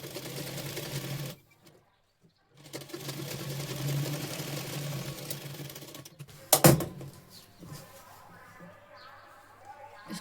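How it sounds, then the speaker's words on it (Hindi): An electric sewing machine stitches blouse fabric along marked fitting lines, running in a steady close whir, pausing for about a second, then resuming, with a sharp clunk partway through. "अब यहाँ से देखिए बिल्कुल निशान पे हम सिलाई लगा रहे हैं।"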